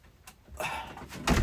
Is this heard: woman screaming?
no